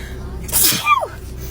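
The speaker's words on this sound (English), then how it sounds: "I have to sneeze" A single sharp sneeze from a woman at the gym, bursting out suddenly and loudly, followed by a brief high vocal trailing sound.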